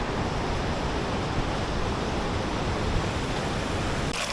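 The small Kaspansai mountain stream rushes through a gorge near the Aksai river, a loud, steady, close broadband wash of flowing water with no breaks.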